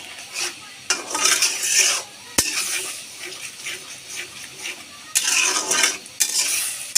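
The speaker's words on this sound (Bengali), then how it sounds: "দিয়ে এটা আবারও ভালো করে মশলাটাকে আমি কষিয়ে দিচ্ছি" Spice masala with black mustard seeds is stir-fried in a pan for a sweet-sour olive pickle, with loud spatula scrapes and clanks over a sizzle coming in rhythmic bursts, no speech.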